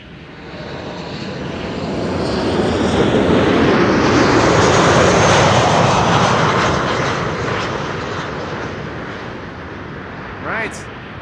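A ten-year-old airliner registered PH-HSK arrives at Amsterdam Schiphol, its engine roar swelling loudly to a peak mid-pass and then slowly fading away.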